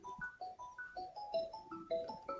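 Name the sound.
telephone ringtone, incoming call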